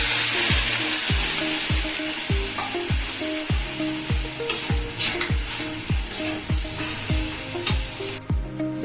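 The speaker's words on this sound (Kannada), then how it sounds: "ಈಗ ನಾನು ಇದಕ್ಕೆ 150 ml ಅಷ್ಟು ನೀರನ್ನು ಹಾಕ್ತಾ ಇದ್ದೀನಿ" Water poured into a hot pan while making padavalakaye (snake gourd) gojju, giving a loud steady sizzle with a regular rhythmic scraping pulse from stirring throughout.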